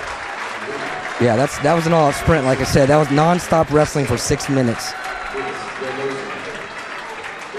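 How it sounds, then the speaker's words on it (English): Crowd at a high school state wrestling championship final applauding and cheering after a match, a loud sustained burst of clapping under a commentator's talk, then fading. "Listen to those crowd."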